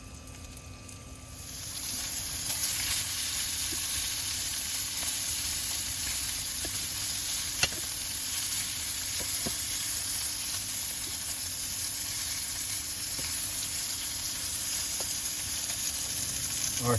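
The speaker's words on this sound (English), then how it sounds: "So I moved to the bigger hot plate and now we've got some sizzling." Food sizzles steadily on a hot plate, a constant crackling hiss that rises after a quiet start, with occasional soft pops and taps.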